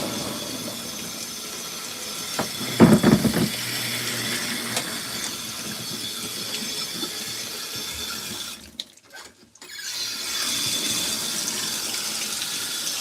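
An LG ThinQ MEGA washer fills with water for another rinse during a hot whites cycle with bedding, a steady hiss of running water with a few clunks, a brief drop, then the flow resuming.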